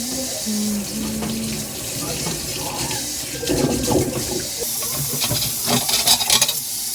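Dishes are washed under a running water tap, a steady close splash of flowing water with clinks and shifting as items are rinsed, and brief voices nearby.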